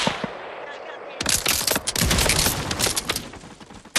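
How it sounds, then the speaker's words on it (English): Fortnite gunfire bursts in after a quiet second: fast, loud automatic shots with sharp cracks, joined by a few scattered single shots, and a voice talks faintly underneath. "they're totally shooting, but we're good"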